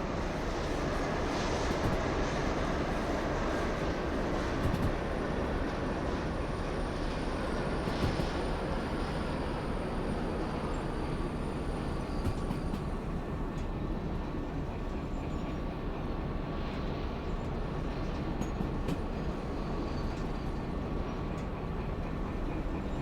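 Diesel rescue locomotive in the railway game Derail Valley, a steady droning engine rumble with rolling rail noise and faint metallic clanks, continuous and fairly loud for the whole stretch without speech.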